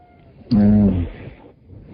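A single cat meow rings out clearly and close at hand, one drawn-out tonal cry lasting about half a second.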